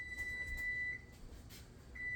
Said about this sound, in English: I hear you. I hear you. Beep, beep, beep.